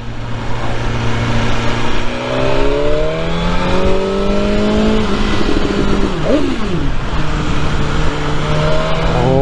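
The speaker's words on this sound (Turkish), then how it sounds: "Sade motor sesini duyalım bir." A BMW S1000R motorcycle engine revs up from a steady idle, heard up close and loud. Its pitch climbs in smooth rising sweeps, then drops sharply and settles back into a rumbling idle.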